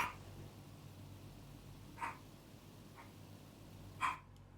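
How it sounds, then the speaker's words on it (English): Dog barking outside in snowy weather, a few sharp single barks spaced about two seconds apart, fairly distant and faint over a low steady hum. "she's barking at something"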